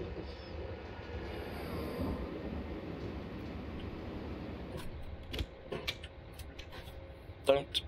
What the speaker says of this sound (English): I'm driving a German train.